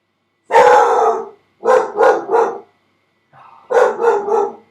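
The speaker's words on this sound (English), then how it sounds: "Can you hear her barking?" A female dog named Poppy barks nearby, loud and sharp. One drawn-out bark comes first, then a quick burst of three, a brief soft whine, and another run of three barks.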